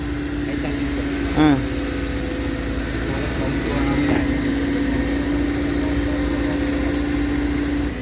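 A tractor engine runs steadily through the whole stretch at a roadside truck-recovery site, a constant mid-pitched drone with slight shifts in tone and a brief voice near the start.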